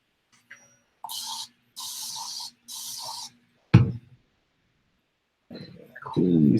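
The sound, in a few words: spraying isopropyl alcohol from a spray bottle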